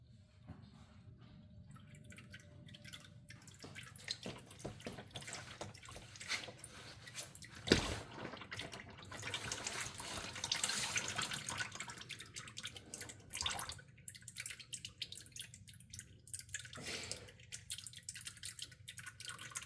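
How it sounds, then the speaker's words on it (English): Transmission oil drains from the pan of a BMW ZF8 automatic transmission in a steady faint trickle and patter, quiet and continuous with a few sharper drips. "this is the perfect time to watch the beauty of the transmission oil drain as it does its synchronized dance"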